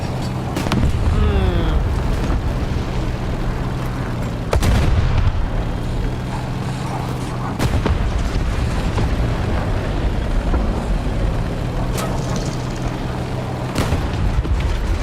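Heavy artillery fire in War Thunder, a run of deep booming blasts with sharp transients at irregular intervals over a steady low engine rumble, loud and continuous throughout.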